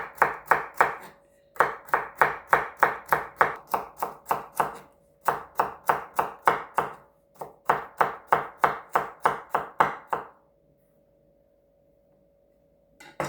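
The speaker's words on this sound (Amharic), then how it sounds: "ካሮቱንም እንደዛው ደቀቅ አድርገን ነው የምንከትፈው።" Carrots are chopped finely on a cutting board in quick rhythmic bursts of sharp knife taps, close and crisp, with short pauses between runs and a quiet stretch near the end.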